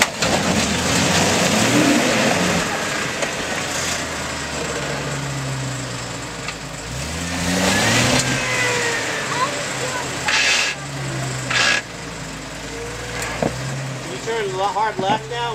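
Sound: 1999 Jeep Cherokee XJ engine revving climbing rocks

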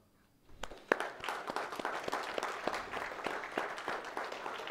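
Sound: applause from church congregation

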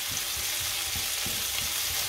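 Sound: onion sizzling in olive oil in a heavy pan

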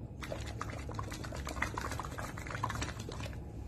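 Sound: blowing bubbles through a straw into a glass of water

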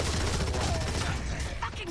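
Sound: gunfire in the video game Gears of War 3

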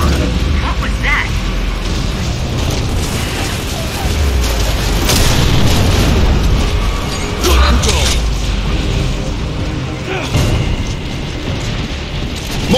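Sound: mortar explosions in the video game Gears of War: Judgment

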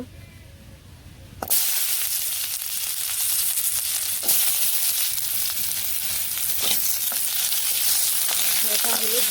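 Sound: potatoes frying in hot oil

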